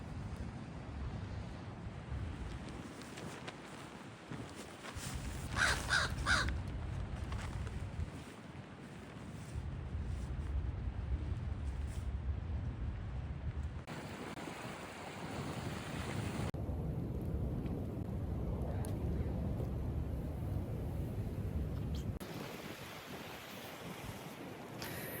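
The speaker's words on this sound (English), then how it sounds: "Windy morning. I'd say it's definitely even more windy than it was yesterday." Strong morning wind sweeping a campsite with a pop-up tent at Cedar Hill State Park, a continuous rushing roar with heavy microphone buffeting that swells and eases in gusts, no talking.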